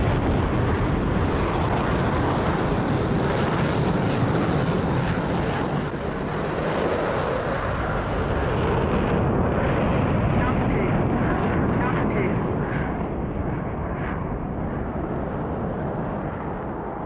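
F/A-18C Hornet jet roaring past in DCS over the Persian Gulf, a broad, loud sustained engine rush that swells and thins slightly as it goes by, with faint voice underneath.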